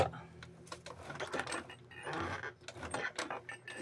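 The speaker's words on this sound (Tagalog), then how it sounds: "Tahiin na natin." Sewing machine stitching a shoe during restoration, bursts of quick mechanical clatter starting and stopping, close and fairly quiet, with a voice speaking in between.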